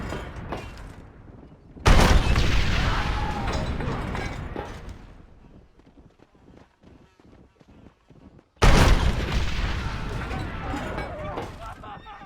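In the Red Dead Redemption video game, two sudden loud gunfire blasts ring out several seconds apart, each fading into rumbling echo, while voices shout in between.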